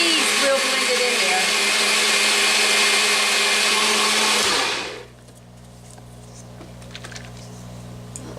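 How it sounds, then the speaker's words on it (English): A kitchen blender whirs loudly and steadily while blending cream cheese, then winds down abruptly, leaving a quiet low hum behind. "I have it all in my blender. Want to get that cream cheese real blended"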